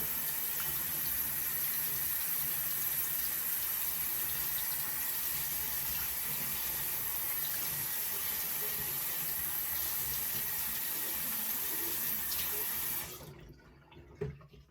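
A bathroom sink tap runs steadily at full flow for about thirteen seconds, a constant bright hiss of water close by, then shuts off abruptly, leaving near silence with a faint clunk.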